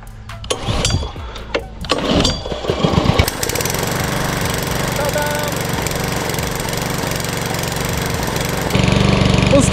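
Small pink Green Tiger lawn mower with a Loncin engine starting with a few sputtering pulls, then settling into a loud, steady close running drone that rises slightly near the end; a voice speaks briefly early on.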